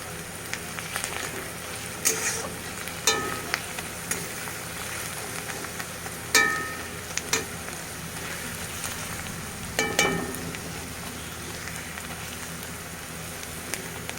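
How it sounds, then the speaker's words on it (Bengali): Soft, steady sizzle of garlic frying in oil, broken by a few louder clinks and stirs of a utensil against the pan. "রসুনটা হালকা লাল লাল ভাজা হবে"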